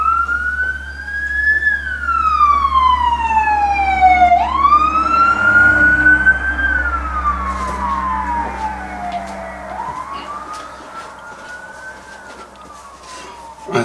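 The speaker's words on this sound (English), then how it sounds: "I think it's the same emergency services." An emergency vehicle siren wails past on a road, its rising and falling tone sweeping loud and close, then receding for more than ten seconds with low engine rumble beneath and no talk.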